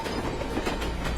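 A train rolls along railway tracks in a film climax, a steady, fairly close rumble with rhythmic wheel clatter, no voices over it.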